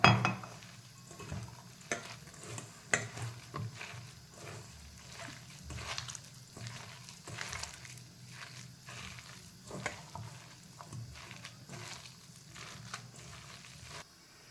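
Grated potato being mixed into dough in a bowl, heard as soft irregular stirring and scraping with frequent light knocks of a utensil against the bowl, fairly close and without talk.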